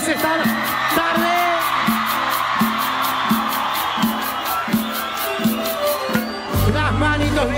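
Women in the audience at an Agrupacion Marilyn live show scream over loud band music with a steady pounding beat, the crowd noise blending into the music until a sudden swell near the end.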